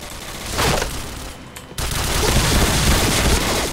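An M4A1 rifle fires in the online shooter Point Blank, with loud, dense bursts of rapid shots that dip briefly and then resume, dense and close.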